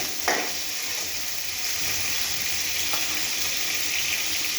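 Cumin and mustard seeds sizzle in hot oil in a pan, a steady close crackling hiss with faint stirring scrapes and occasional soft pops, no voices.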